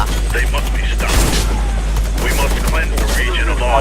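Rapid gunfire bursts from the video game Warface, dense and loud, crackling almost continuously over a constant low hum, with voices talking in the background.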